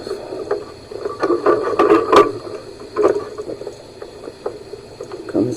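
Water babbles and splashes in a creek outdoors at night, irregular liquid gurgles rising and falling nearby at moderate loudness.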